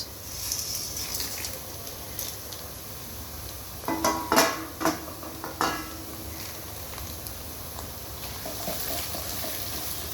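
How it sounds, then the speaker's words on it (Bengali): Whole garam masala spices (bay leaf, cardamom, cinnamon, clove, black pepper, black cardamom) frying with onion and garlic for a spicy mutton curry, a steady soft sizzle broken by a short cluster of louder metallic stirring scrapes midway. "আমি পেঁয়াজ রসুনের সাথে গরম মশলাটাকে ভালোভাবে ভেজে নেব।"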